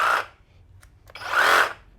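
Festool RSC 18 cordless reciprocating saw run briefly in the air, two short whirring bursts of motor noise separated by a pause with faint clicks, close and loud.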